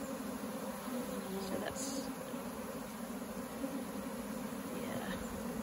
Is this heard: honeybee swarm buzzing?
yes